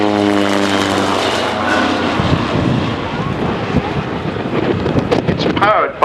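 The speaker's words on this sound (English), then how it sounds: "Now this is a large biplane." A large propeller biplane flies at the Old Warden air display in May 2011. A strong droning engine tone fades into a broad whooshing rumble, heavily buffeted by wind on the microphone.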